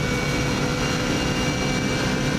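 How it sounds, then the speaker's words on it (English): Race car engine screaming at sustained high revs during a record-breaking lap of the Isle of Man TT course, a dense, constant loud roar with no speech. "it does sound amazing, and it's also revving quite a lot higher than the previous car"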